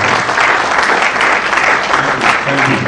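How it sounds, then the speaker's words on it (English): Loud, dense applause from a lecture audience at a news magazine's anniversary event, many hands clapping at once in a continuous, even roar across the full three seconds. "Dr. Ting, she deserves a bigger round of applause"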